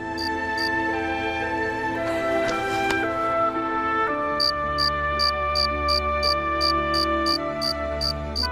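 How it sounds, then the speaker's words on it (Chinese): Crickets chirp in short, evenly spaced pulses in the second half, laid over a sustained musical drone and tones with no talking. "有蛐蛐叫，"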